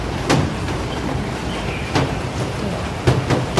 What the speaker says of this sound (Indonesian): cuaca di luar itu masih hujan, tapi terang sih